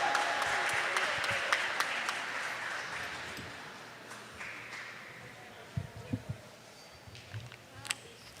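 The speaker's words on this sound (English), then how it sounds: "Round of applause for them." A school audience at a third-grade academic bowl applauds the winning team, dense clapping that starts loud and fades to a few scattered claps over about eight seconds.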